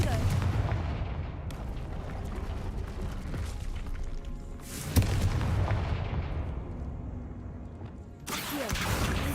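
Confringo fire spell blasts in the game Hogwarts Legacy, several loud explosive bursts with rumbling, crashing decay, spaced a few seconds apart alongside game audio.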